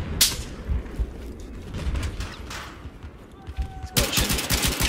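Gunfire in the video game Battlefield 4, Hardcore mode, rattles in bursts of rapid shots, with a loud volley at the start and another heavy burst near the end, mechanical clicks in between.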